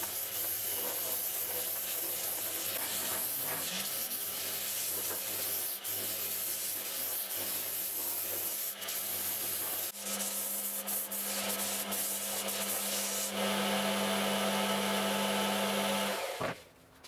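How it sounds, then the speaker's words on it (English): A disc sander refines the edges of a wooden piece, giving a continuous loud whirring rasp that shifts in tone as the wood is pressed against it, then winds down at the end. "Using a disc sander is a great way to refine the edges, and this will give me the final shape I need."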